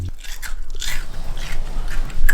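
Close, loud crunching as someone bites into a crisp breakfast sandwich, a few crackly bursts of chewing with no talking.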